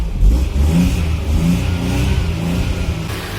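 A Maruti 800 car with a carburettor petrol engine starting up: a loud burst as it catches, then a steady, close, mid-pitched running and revving drone, with no voices.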